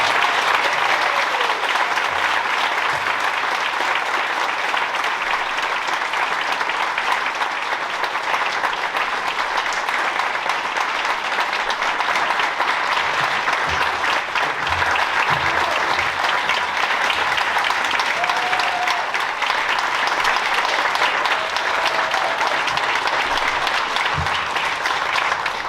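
A large audience claps steadily and densely for over twenty-five seconds at a high school honor graduation night awards ceremony, a sustained wash of applause with no voices rising above it.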